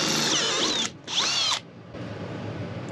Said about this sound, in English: so when I drill through, that stays pushed up against the corner there.